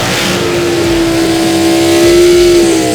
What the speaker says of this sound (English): Get ready for some of the most exciting drag racing you've ever seen.